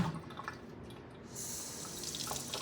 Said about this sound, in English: And I am going to give them a good rinse.